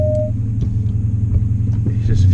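A Dodge Challenger Scat Pack idles while it reverses, giving a deep, steady engine rumble close by. A brief higher tone at the start and a few faint clicks sit over the low drone.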